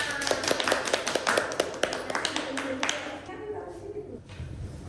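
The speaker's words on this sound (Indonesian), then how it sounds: "Tepuk tangan untuk kita semua." A classroom of students claps hands in applause during an Islamic studies lesson, a quick run of sharp, irregular claps that fades out partway through while a teacher's voice talks over it.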